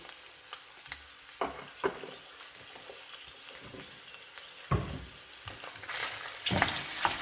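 Beef browning in hot cooking oil in a pan, a steady close sizzle broken by repeated scraping stirs of the spoon, with louder bursts of frying toward the end and no talking.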